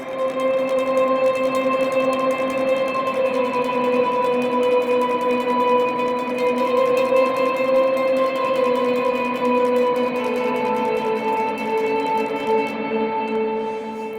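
An electric guitar holds a sustained octave drone from a worship song, washed in heavy reverb and echo. The tones ring steadily and spaciously without pause, with no talking.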